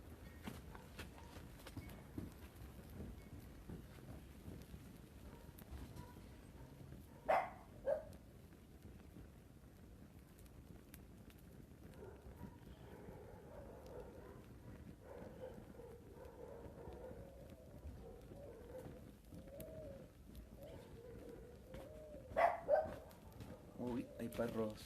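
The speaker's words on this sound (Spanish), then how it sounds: "hay perros cerca de algún campo aquí" Dogs bark in the countryside near a campfire stop. Two short bursts of barking come from a distance over low, faint outdoor background noise.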